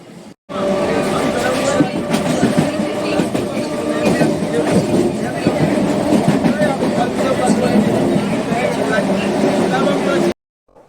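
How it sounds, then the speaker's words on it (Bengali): A train rumbling in alongside a platform, loud and continuous with rattling and clatter, voices of people mixed into the noise. "আর এই যে আমাদের ট্রেন আসলো"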